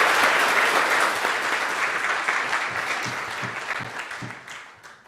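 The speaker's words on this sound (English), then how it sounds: "Can I please have a round of applause?" Sustained audience applause at a London School of Economics university event, dense and steady at first, then thinning and fading toward the end with a few distinct claps standing out.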